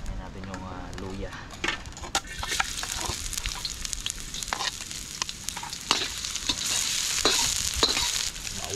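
Sliced ginger sizzles and crackles in hot cooking oil in a pan, with steady frying hiss, frequent sharp clicks and scrapes of a utensil stirring, and brief voices nearby.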